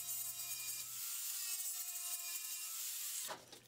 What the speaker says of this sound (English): Here I trim the screw of the latch flush.